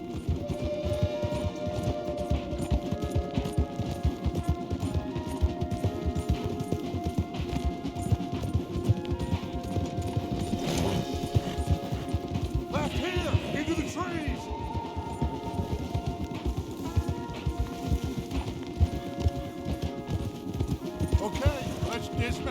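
Hooves clip-clop rapidly and continuously as horses gallop in the video game Red Dead Redemption II, with people talking over the steady rhythmic pounding.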